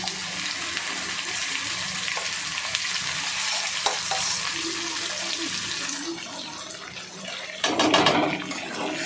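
Ground spice paste frying in tempered oil in a home kitchen pan, a steady close sizzle with stirring scrapes that swells into a louder, bubbling spatter toward the end, no talking.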